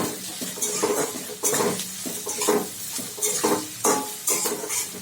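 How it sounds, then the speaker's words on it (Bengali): Chopped onion and green chilli frying with carrot and cabbage for chowmein, a steady sizzle in the pan broken by repeated scraping stirs and clinks of a spatula, close and without talk. "পেঁয়াজটাও সুন্দর করে এর সঙ্গে ভেজে নিলাম একসঙ্গে।"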